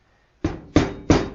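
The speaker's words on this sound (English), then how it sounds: "If you just give the head a tap with a rubber hammer" Three dull, solid thuds land about a third of a second apart, close and moderately loud, as a rubber hammer taps a small engine's cylinder head.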